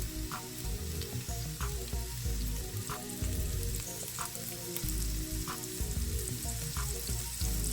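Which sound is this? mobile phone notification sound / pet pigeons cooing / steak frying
steak frying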